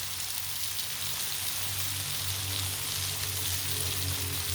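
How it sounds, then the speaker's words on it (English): Steady, loud sizzling of food frying on a hot Blackstone griddle, a continuous crackling hiss with a low hum underneath and no talking. "Can you hear me over the sizzle?"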